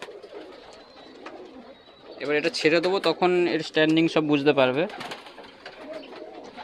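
Pakistani closed-tail giribaz pigeons coo softly nearby while someone talks loudly over them for much of the time.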